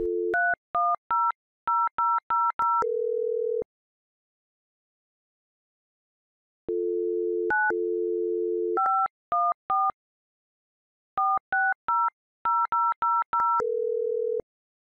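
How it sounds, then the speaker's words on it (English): Telephone touch-tone dialing, clean sequences of quick DTMF beeps in rapid clusters, with a steady dial tone held between groups and a gap of silence midway, heard alone. "dial local 7 and 10 digit numbers"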